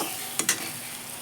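Potatoes and carrots fry in a pan for sabudana khichdi, a faint steady sizzle broken by two quick scraping stirs.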